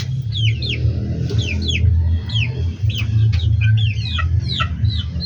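Chickens in a cage clucking and chirping in repeated short calls throughout, close and clear over a low steady hum.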